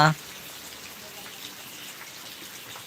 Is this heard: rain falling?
yes